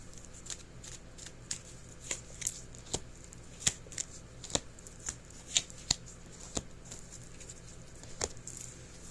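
A Moonology Oracle card deck being shuffled by hand, with repeated crisp riffles and snaps in an uneven rhythm, close and fairly soft, with no talking.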